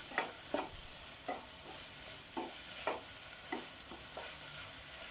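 Vegetables sautéing in a pan with soy sauce and tomato ketchup for Manchurian, soft sizzling with a series of scraping stirs at an uneven rhythm, close and fairly quiet.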